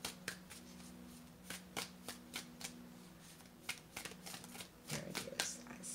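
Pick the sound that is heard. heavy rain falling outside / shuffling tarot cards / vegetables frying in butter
shuffling tarot cards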